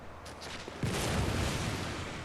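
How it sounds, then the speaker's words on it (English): A hunter's gunshot in a video game booms loudly and alone, one heavy blast that rolls into a sustained rumbling tail. "By that loud gunshot noise."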